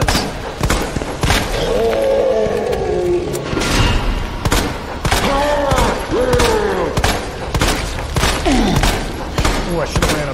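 Rapid gunshots from Resident Evil 2 Remake, in Claire's Hardcore playthrough, firing in quick uneven bursts under a constant dense layer of in-game noise, with vocal growls and a voice talking over it.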